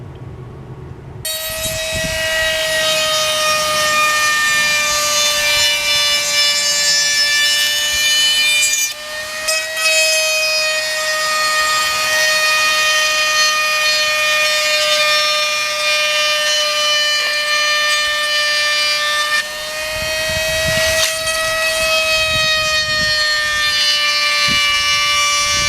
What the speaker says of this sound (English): I'm going to have to just do with a Dremel tool.